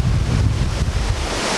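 Hurricane-force wind gusts roar across a beach with waves crashing on the shore, a loud, continuous rushing blast buffeting the microphone.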